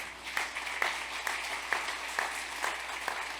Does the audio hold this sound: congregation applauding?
yes